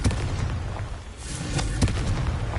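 Confringo blasting spells exploding in Hogwarts Legacy, a few booming bursts with sharp cracks amid a constant rumbling game backdrop, loud and close over under three seconds.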